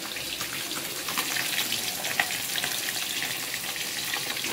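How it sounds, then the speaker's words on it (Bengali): Pieces of fresh katla fish fry in hot oil in a pan, a dense, steady sizzle with crackling pops, heard close and alone without speech. "এবার মাছ ভাজা হচ্ছে"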